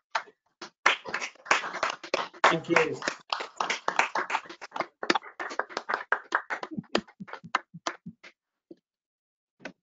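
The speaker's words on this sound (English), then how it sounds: "anyone wants to unmute and help me applaud Darren on a great evening" Scattered hand claps from a few online meeting attendees, uneven and thinning out toward the end, with voices talking over them.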